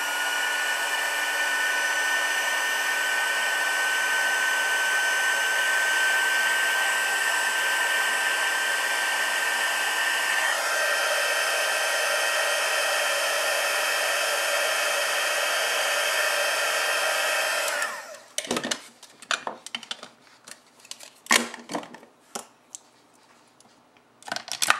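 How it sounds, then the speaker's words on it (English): Heat tool blowing to emboss a papercraft punch-art piece, a steady loud whirring roar running continuously for about eighteen seconds before switching off, followed by a few scattered handling knocks and rustles. "so I'm going to heat emboss this"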